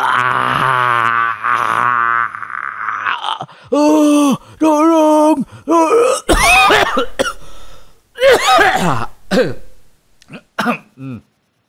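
Several harsh, close coughs and throat-clearing bursts, loud and up front, with groaning vocal sounds between them.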